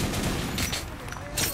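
Semi-automatic gunfire in the shooter game Metro: Last Light Redux, a quick run of loud, close shots in a rapid rhythm with a brief pause, then another burst.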